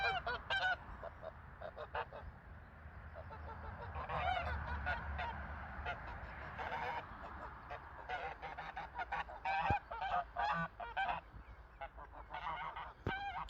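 Several geese honk repeatedly at close range on a farm, a noisy overlapping chorus of calls that continues throughout with brief pauses.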